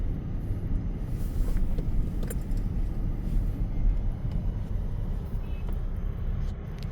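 Steady low rumble of road traffic on a snowy street, cars and a bus passing close by in a continuous wash of engine and tire noise, with faint wind and a voice speaking at times over it.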